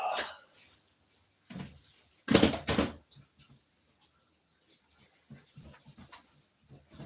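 Indoors, a puppy pants and snuffles in short, quiet bursts, with one louder rustling burst and scattered small clicks and movements around it.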